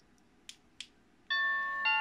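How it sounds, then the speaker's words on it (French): Two soft clicks as a doorbell button is pressed, then a bright electronic chime from a Friedland 433 MHz wireless doorbell rings out in two tones, clear and close in a quiet room. "Je vais appuyer sur la sonnette."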